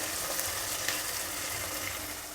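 A teaspoon of cumin seeds splutters in hot oil while veg biryani is being cooked, giving a steady, even sizzle and frying hiss with a few faint crackles and pops throughout.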